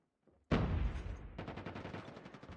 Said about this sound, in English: Here's gunshots.